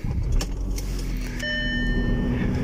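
An Audi Q7 engine cranks and catches, a starter whir followed by a steady idle with a faint chime tone, close and alone.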